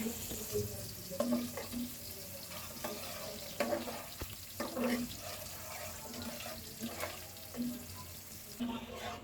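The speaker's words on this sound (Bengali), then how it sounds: "পেঁয়াজটা ভেজে পানি দিয়েছি মশলা কষানোর জন্য" Onions fry in a pan with water added to cook down spices, giving a low sizzle broken by repeated scraping stirs and faint bubbling, fairly quiet throughout.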